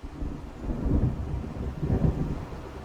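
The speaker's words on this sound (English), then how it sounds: "It seems there's a storm coming." Thunder from an approaching storm in the video game Alan Wake, a deep continuous rumble that swells twice over steady rain hiss, with no voices.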